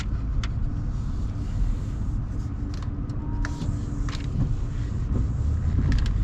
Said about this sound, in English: Let us set off in our Limited Elite. Super fancy